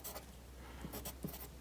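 A pen or pencil writing on paper during a math lesson, a few faint scratchy strokes in quick bursts, close and quiet against a low background hum.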